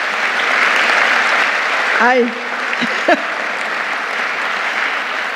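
Steady applause from a church congregation at a Mass, a broad sustained wash of clapping with a few brief voices rising over it partway through.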